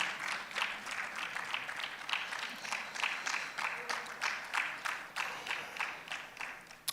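Audience applause at a money summit as a rural bank CEO is introduced, steady overlapping clapping from a hall crowd with rhythmic surges, moderately loud and continuous throughout.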